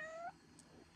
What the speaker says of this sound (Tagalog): Love na love ko yung pusa.